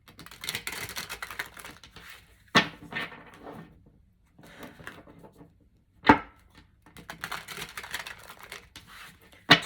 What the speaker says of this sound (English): 4 more shuffle for Sagittarius